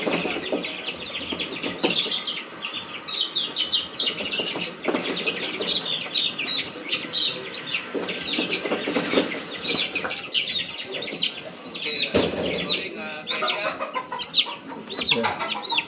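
Hens cluck and chatter inside a chicken coop, with overlapping calls and occasional wing flaps close by, while people talk quietly in the background.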